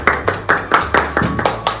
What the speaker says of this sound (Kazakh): Шапалақ ұрамыз.